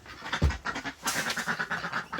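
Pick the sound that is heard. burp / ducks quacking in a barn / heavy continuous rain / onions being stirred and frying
ducks quacking in a barn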